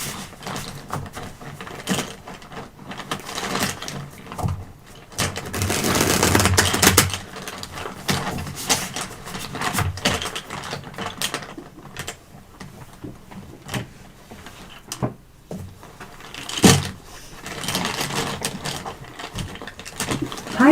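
A deck of tarot cards shuffled by hand for a reading, producing bursts of riffling and sliding card noise with quiet pauses between them. One loud sustained flurry stands out near the middle, followed later by a short sharp snap.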